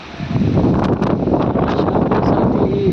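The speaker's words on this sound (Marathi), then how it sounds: "या ठिकाणी आता वाराही सुटलेला आहे" Gusty wind through trees buffeting the microphone in Karmala, India, ahead of a May storm, a loud, continuous rushing roar with rustling on top, outdoors and without speech.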